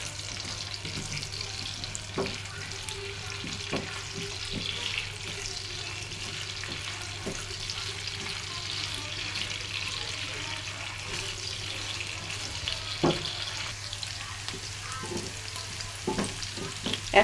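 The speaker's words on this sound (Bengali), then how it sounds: "এখন ভেজে নেব" Thickly cut onions fry in oil in a pan, producing a steady low sizzle with occasional stirring knocks and scrapes scattered throughout. The sound is close and moderately quiet, with no talk.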